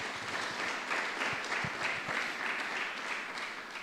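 Audience at an Italian talk event on Laudato si' applauds, a soft, continuous wash of clapping heard at a distance for a few seconds.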